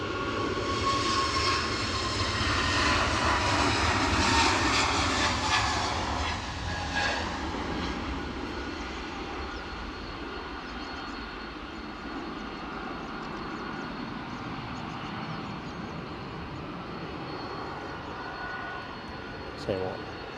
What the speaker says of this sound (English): Plane rolling.